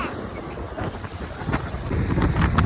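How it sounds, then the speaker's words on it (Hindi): Strong wind roaring across open farm fields during a storm, a steady broadband rush that swells louder toward the end, with no voices. "बहुत तेज हवा चल रही है"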